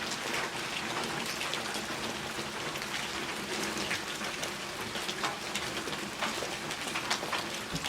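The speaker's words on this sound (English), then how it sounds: "Started raining again." Steady rain falls and patters on surfaces, a dense, even hiss with scattered drops and no voices.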